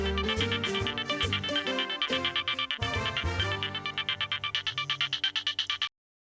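Mobile phone ringtone playing a bright melodic tune, loud and alone, with a pulsing repeated pattern in its second half before cutting off abruptly.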